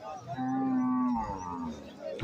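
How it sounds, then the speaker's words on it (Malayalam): Cows at a busy cattle market give a long, loud low moo, then a second call trails off, with market noise around them. "പശുക്കൾ കണ്ടമാനം വന്നിട്ടുണ്ട് ഇന്ന് ചന്തയിൽ"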